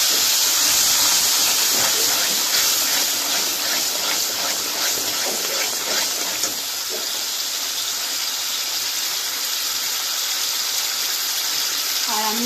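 Spiced water hits a hot pan of fangur fish and sizzles in a loud, steady, close hiss that lasts throughout, with a faint voice in the background.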